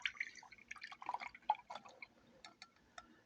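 Garlic-infused honey spills and drips in a run of small, close wet ticks and plops, irregular at first and then spacing out, with no talk over them.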